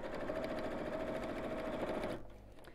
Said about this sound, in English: So again, just sewing around the top.